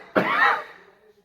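A single sharp huff-like cough during a breath work exercise, close and loud, with a brief breathy tail fading out.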